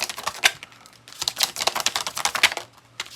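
Tarot cards being shuffled by hand close to the mic in dense bursts of crisp riffling clicks and flutters with brief pauses between them, and no talking.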